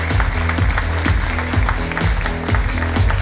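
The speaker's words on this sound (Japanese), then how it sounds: "どうぞ大きな拍手でお迎えください。" Audience applause at an action sports awards ceremony in Japan welcoming the BMX Rider of the Year, a dense, steady clapping wash with rhythmic beats from background music running underneath throughout.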